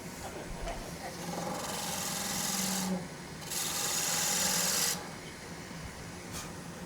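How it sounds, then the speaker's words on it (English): Skew chisel cutting a wood blank on a lathe: a steady rasping, rubbing cut in close bursts, louder between about three and five seconds, with a faint low motor hum underneath. "start at the center, and then rub the bevel"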